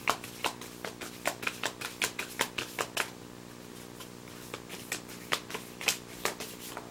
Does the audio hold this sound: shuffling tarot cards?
yes